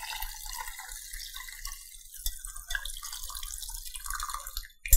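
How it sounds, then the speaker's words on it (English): Broth is poured from a slow cooker, giving a faint, uneven trickle and splash of liquid with a few dripping spatters and a sharper splash at the very end. "I just wanna clear this broth up a little bit. So I'm just gonna take it and I'm gonna pour it."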